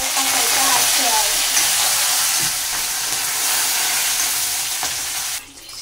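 Curry leaves sizzle loudly in hot oil while being stirred in a pan for Andhra-style gongura roti chutney, a steady frying hiss with occasional spatula scrapes that drops off near the end.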